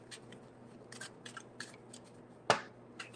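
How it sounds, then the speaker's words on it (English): Tarot cards being shuffled by hand, a short series of quick crisp riffles and flicks ending in one sharp louder snap, close and otherwise quiet. "That's a small shuffle"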